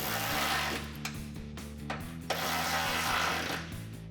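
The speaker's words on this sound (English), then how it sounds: "I'm going to tighten down the isolator bolts with the 10mm socket." A 10mm socket on a ratchet snugs down isolator bolts during a cat-back exhaust install on a 2021-2022 Ford Bronco, giving a steady mechanical whirring buzz with small clicks, fairly quiet and close, with no talking.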